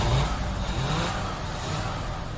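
A 1978 Mercury Marquis V8, running for the first time in 15 years after its distributor cap was refitted, catches and revs briefly, then settles into a steady, rumbling idle close by.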